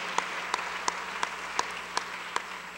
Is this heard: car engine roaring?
no